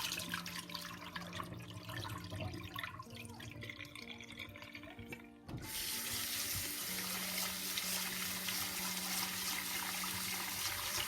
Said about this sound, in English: After 30 minutes, we will drain the water and rinse it a few times.